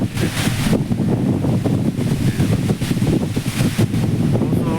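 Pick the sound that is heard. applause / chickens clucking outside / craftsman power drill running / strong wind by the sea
strong wind by the sea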